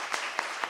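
Applause from a television talent show audience in Assemini, a soft, steady wash of clapping with three sharper claps standing out in a short burst.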